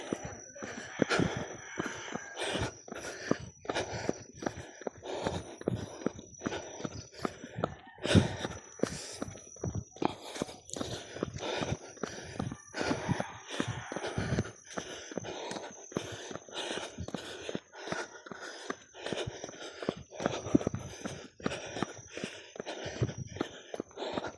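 Heavy, ragged panting from a person after a first jogging session, quick loud gasping breaths and snorts repeating irregularly for a long stretch, close to the microphone with no talk.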